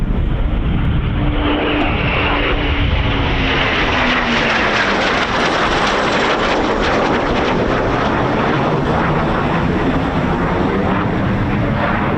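An aircraft arrives at RAF Coningsby, a loud continuous roar of engine noise filling the whole stretch with a slowly shifting pitch as it passes close by.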